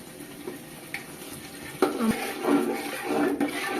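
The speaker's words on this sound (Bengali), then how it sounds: "এখন আমি এখানে লিকুইড দুধ দেবো" Liquid milk is poured into chicken cooking in a pan for morog musallam, and the sizzle swells into a louder bubbling hiss near the middle among light clinks of utensils, close and without speech.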